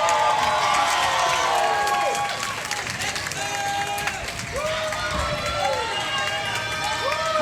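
A crowd at a Hong Kong Disneyland dance-off finale claps and cheers for a dance group, with whoops and excited voices rising over steady applause.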